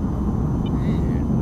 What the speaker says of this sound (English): To our trademark parking lot takeoff. Full afterburner.